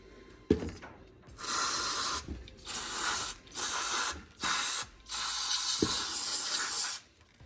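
Compressed air blasts gunk out of a part from a 1972 Chevy short box 4x4 truck. Several loud, close hissing bursts, each lasting a second or more, are separated by brief gaps.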